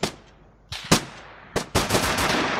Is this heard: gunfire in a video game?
yes